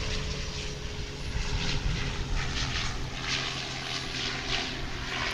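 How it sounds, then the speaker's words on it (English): An Ameriflight Embraer 120ER Brasilia turboprop cargo plane at Dallas/Fort Worth drones with a steady propeller hum and a pulsing beat, loud and near, holding throughout. "It's an Embraer 120ER Brasilia."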